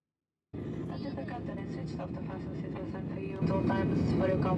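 A Ryanair flight operated by Lauda roars through its landing, heard from inside the cabin. Steady, loud broadband engine and airframe noise starts abruptly and swells louder near the end.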